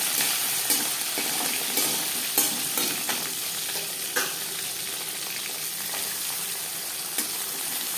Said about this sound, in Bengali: বেশ খানিকটা রিফাইন্ড অয়েল গরম করে নিয়েছি এবার দিয়ে দেব ম্যারিনেট রাখা মাছ